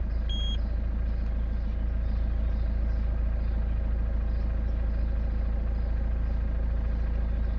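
A Peugeot 206 with a 1.6 HDi diesel engine and its EGR valve removed idles steadily just after starting, a loud, continuous low rumble with a brief high beep near the start.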